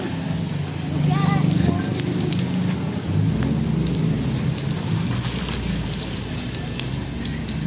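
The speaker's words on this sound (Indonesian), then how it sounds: "Wah, hujan." Rain falls steadily outdoors at a parking area in Cisarua, a continuous hiss with low rumbling beneath, while people talk briefly over it.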